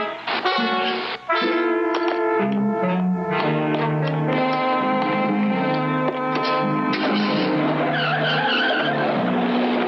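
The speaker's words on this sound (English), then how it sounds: "The two head off in Powers' new unfinished kit car that Yo-Yo explains is the fastest car ever made" An unfinished kit car speeds off with its tires skidding and squealing, a loud, sustained screech with engine roar throughout.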